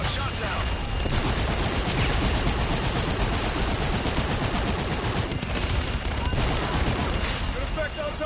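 A video game airstrike unleashes a dense, continuous barrage of gunfire, loud and relentless throughout with no gaps between the shots.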